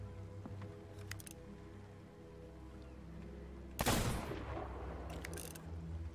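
A ship's cannon fires in the pirate game Sea of Thieves, one loud, close blast with a rushing decay over a humming ambient background, with a few fainter clicks before and after.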